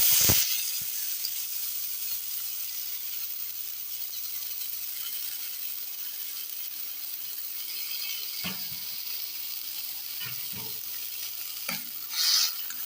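Boiled vegetables being stirred into a frying pan for a cluster bean stir-fry, a faint steady sizzle broken by a few sharp scrapes and clatters of the spoon.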